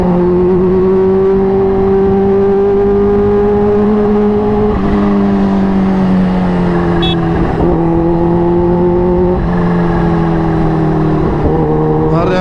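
A Kawasaki Ninja H2 superbike engine drones loudly at night on a busy road, holding a strong, steady tone that dips and climbs a few times as the revs change, with no pause throughout.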